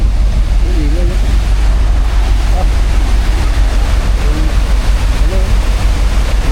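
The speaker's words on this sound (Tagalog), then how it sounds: "lakas ng agos ng tubig" A strong, rushing water current churns in a constant, heavy roar close by, with faint voices talking underneath the noise.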